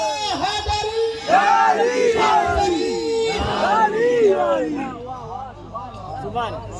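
At a religious gathering, a large crowd chants a slogan in loud, rhythmic call-and-response waves of many voices, energetic and close, fading into scattered murmuring near the end.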